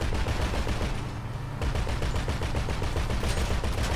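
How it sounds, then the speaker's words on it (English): Rapid gunfire in Grand Theft Auto on PS4, aimed at a car's tires: dense, loud bursts of repeated shots that run almost continuously, with a short lull partway through. "I was trying to shoot you guys' tires out"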